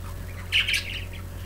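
Budgies waking up in the morning let out a short burst of squawky chirps, close and moderately loud over a low steady room hum, with no talk.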